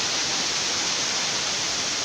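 Savruk waterfall in Kahramanmaraş, Turkey, gives a steady, dense roar of falling water that fills the whole moment without a break, with no voices.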